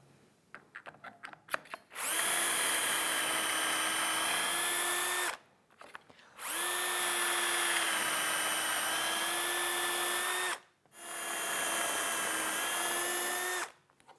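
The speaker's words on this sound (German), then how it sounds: "Wir bohren gleich einfach drei Löcher hier rein." A power drill whines in three long bursts of several seconds each, drilling three holes in wood, separated by short pauses, close and loud, with a few clicks before the first.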